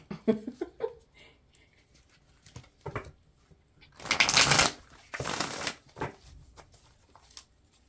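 Cards being shuffled in a few quick riffling bursts, close and crisp, with soft handling noises and small taps between them.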